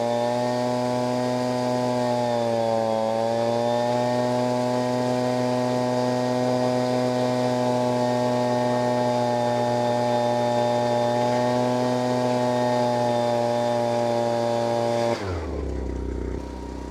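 A Ryobi backpack blower's small two-stroke engine runs steadily at high throttle, a loud, even, buzzing drone held close for most of the stretch before it suddenly drops off near the end.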